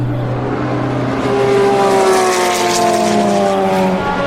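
An LMP2 race car's engine drones loudly with a steady high pitch that slowly shifts as it passes, close and alone without voices.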